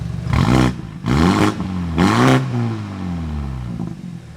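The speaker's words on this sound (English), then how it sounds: "we installed a Ramus performance exhaust, allowing the otherwise muted N20 to sing the song of its people and flow more freely" A BMW 328i with the N20 engine and a Remus performance exhaust revs three times in quick succession, each loud blip rising and falling, then settles into a steady idle drone.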